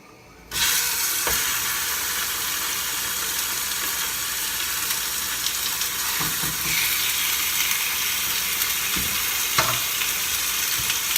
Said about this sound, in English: the lamb comes on a hot skillet